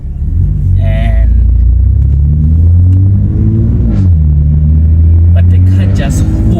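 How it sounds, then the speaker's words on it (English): BMW M2 Competition pulling away hard on launch control, a loud, steady low engine rumble with rising harmonic tones across several seconds, close and continuous, with a person speaking over it. "the car just hooks with the launch control, like it hooks"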